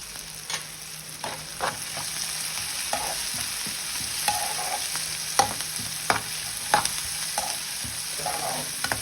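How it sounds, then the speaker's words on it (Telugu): A tempering of spices fries in a pan with asafoetida for Andhra-style pappu charu, a continuous sizzle broken by repeated scraping stirs of a spoon against the pan. "ఇట్లా ఫ్రై అవుతున్నప్పుడు ఇందులో కొంచెం ఇంగువ వేసుకొని"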